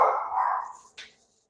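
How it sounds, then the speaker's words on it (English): A dog gives one drawn-out bark that fades over most of a second, then a short sharp yip, close and fairly loud indoors, with no talking. "they're over here barking like as if somebody was actually knocking on the door"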